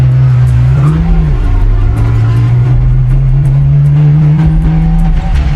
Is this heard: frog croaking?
no